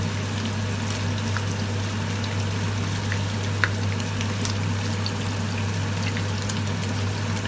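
Mantis shrimp frying in hot oil for a garlic-pepper dish, giving a steady, dense crackle and bubbling with a low hum underneath and no talk.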